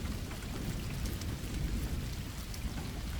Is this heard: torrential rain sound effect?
yes